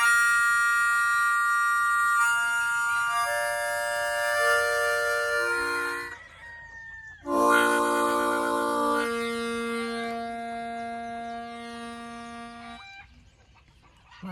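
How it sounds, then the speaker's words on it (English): A harmonica is played for farm animals, including a young bottle-fed one, in two long phrases of sustained chords and bending notes separated by a short pause, close and clear with no talking. "Let's see how he does with the sound of harmonica."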